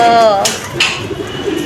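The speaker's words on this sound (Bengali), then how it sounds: "এই যে এখানে অনেকগুলা কবুতর আছে, এখানে পালে ওরা।" Pigeons coo in a coop with soft, close, rolling calls, joined by a couple of brighter chirps and light metallic clinks amid steady background noise.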